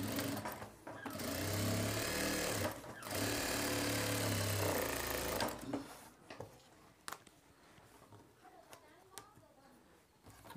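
A sewing machine stitching a shirt collar runs loud and steady in two bursts with a short break between them, then stops, and a person talks over quieter handling sounds.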